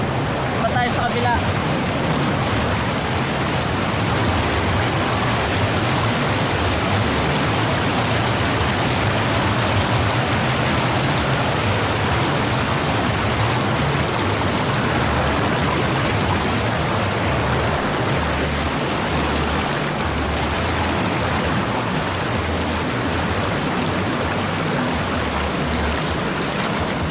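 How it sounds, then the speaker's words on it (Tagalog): Strong river current rushing and churning with waves, a loud, continuous broadband roar that stays steady and close throughout, with faint voices occasionally underneath. "Ang lakas ng alon dito."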